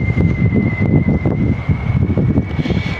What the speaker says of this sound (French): il y a un petit vent, hein, comme vous pouvez l'entendre aussi, il y a un petit vent léger